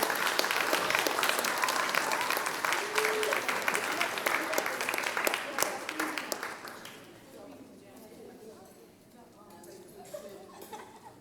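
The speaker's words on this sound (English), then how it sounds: "Let's give these girls a nice round of applause." An audience applauds a girls' school team at a superintendent's citation ceremony, with dense clapping for roughly six seconds before it thins and fades out.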